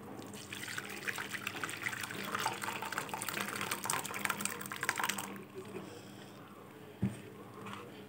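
Passion fruit juice being strained through a filter gives a soft, steady trickle and splash of liquid for several seconds, faint and close, ending with a small knock.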